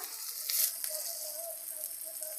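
Ginger paste sizzles in hot oil for a vegetarian cauliflower, potato and paneer curry, giving a steady, close hiss with a brief louder flare near the start.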